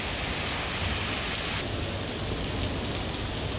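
Heavy rain pours during a heavy-rain warning in Jeju, at a home 200 metres above sea level. It is a dense, steady hiss of rain hitting surfaces that holds constant throughout, with no voices.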